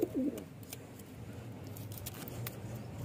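Pet fancy desi mix pigeons: a short, soft coo at the very start, then low background rustle and a few faint clicks, with no talking.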